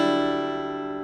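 A guitar C-shape chord moved up one whole step rings out as a single sustained strum, close and clear with no voices, fading slightly over about a second.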